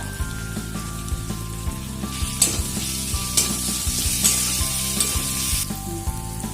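Steady sizzling of onion and capsicum frying in a pan, continuous crackle with occasional stirring scrapes, close and fairly loud, no voices.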